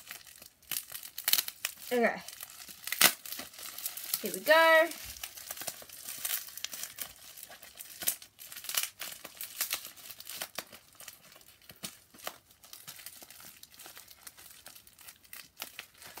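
Plastic crinkles and rustles through most of the stretch, close and irregular, with a person speaking briefly over the handling.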